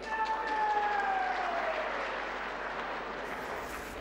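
Broadband crowd applause from an audience at a Pakistani political rally speech, steady and fairly loud across the whole stretch, with a faint whistling tone sliding down early on.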